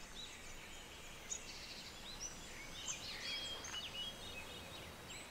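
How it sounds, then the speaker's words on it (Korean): Small birds chirp and whistle in a forest in short, scattered calls, faint and somewhat distant over a soft, steady outdoor hiss. "새소리는 듣기 좋고 아침부터 꼭 연주하는 것 같잖아."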